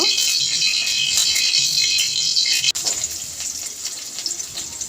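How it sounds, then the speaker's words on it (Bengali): Raw onions fry in plenty of hot oil for a green banana and fish curry, a steady close hissing sizzle with a brief clatter midway, no talking. "এখন আমি পেঁয়াজটা ভাজতে থাকবো"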